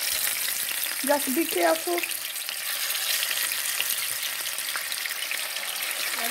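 Tilapia fish frying in a pan of hot vegetable oil, a steady dense sizzle throughout with a louder bubbling burst early on as the fish goes in; a voice briefly speaks over it.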